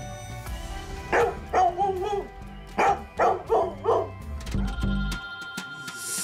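A dog barks repeatedly in loud, close bursts to alert people, with a few yips and whimpers between the barks and a faint hum underneath.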